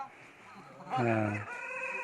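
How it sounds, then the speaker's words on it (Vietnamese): A rooster crows once, loud and close, before dawn on a cold dark December morning in a rural Hmong village, the harmonic call rising and holding after a quieter opening of faint background noise. "Gà mới hơi gáy thôi là đã bắt đầu tổ chức rồi"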